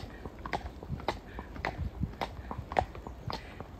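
Horse hooves clip-clop at a steady walking rhythm while a mare is ridden out on a hack, the hoofbeats close and moderately loud with faint rustling behind them.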